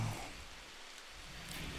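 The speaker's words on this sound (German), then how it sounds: "Gott sei Dank regnet es gerade." Steady, faint rain hiss from the video game Rimworld, a soft continuous wash of falling rain with no voices.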